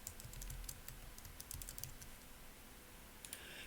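Keys of a computer keyboard typed in quick light bursts during graphic design software work, close and clear, with short pauses between runs of clicks.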